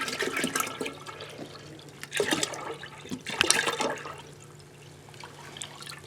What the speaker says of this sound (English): Then we're going to put all of our apple juice in